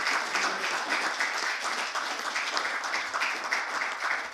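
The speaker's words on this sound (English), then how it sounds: "Give yourselves a round of applause." Steady, moderately distant applause from a room of people at a People's Labour Party press conference, a continuous wash of many hands clapping with no breaks.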